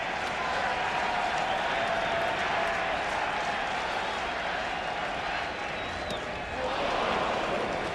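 Crowd at Yankee Stadium during a Minnesota Twins at New York Yankees baseball game, a broad, sustained roar of cheering and clapping that holds steady from start to finish.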